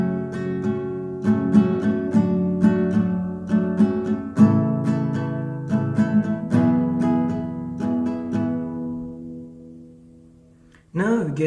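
Acoustic guitar strumming the verse chords of a song in a steady down-up pattern, close and clear with ringing chords and no voice, ending on a fresh strum after a fading pause.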